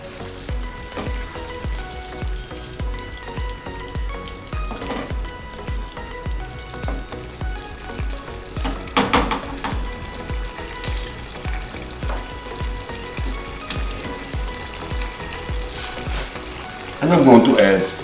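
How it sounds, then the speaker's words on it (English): Tomato puree and meat for a bolognese ragu sizzling in a pan while being stirred, a steady crackling fry broken by scraping utensil strokes, with a voice talking intermittently over it. "Stir it well to combine along with the meat."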